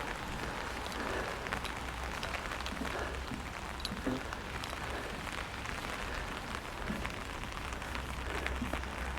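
Steady rain falls across a town by a river, making a dense, even hiss of drops on surfaces with no breaks and a low background rumble throughout.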